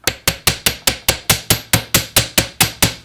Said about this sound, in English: So you have to hammer each one of those little pieces out.